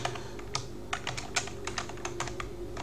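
Quick, uneven keystrokes clatter on a computer keyboard, a close, fairly quiet burst of typing.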